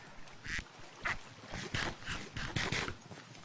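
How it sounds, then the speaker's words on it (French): Plastic toy duck giving a series of faint, irregular quacks, about seven short squawks spread over a few seconds, heard alone without speech. "Canard en plastique m'attaque?"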